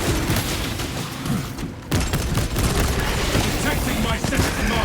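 Tyranid artillery in a Warhammer 40,000 shooter pounds the battlefield with heavy booms and rumbling blasts amid gunfire, dense and loud throughout, broken by a brief gap, with a voice heard over the fighting.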